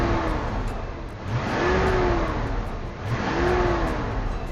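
A Mercedes W126 560SEL V8 with a Lorenza tailpipe revs hard in two rising surges while stationary, loud and close, its deep steady exhaust roar swelling and easing between the pulls.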